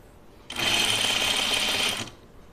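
A sewing machine stitches over a seam while making a Scout Tee, running in one steady burst of about a second and a half, close and clear, with no talk.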